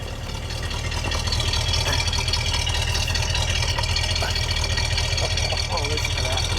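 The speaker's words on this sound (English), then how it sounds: "Let me get a little exhaust note." A 1973 Cadillac Eldorado convertible idles with a steady, deep low rumble from its exhaust, loud and close, holding an even pulse with faint background noise.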